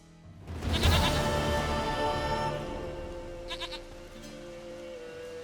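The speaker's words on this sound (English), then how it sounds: "Goat of mine, dearest, sweetest goat." A goat in The Witcher 3: Wild Hunt lets out a loud, wavering bleat that swells and trails off, followed by a brief quieter rustle and a faint tonal hum lingering underneath.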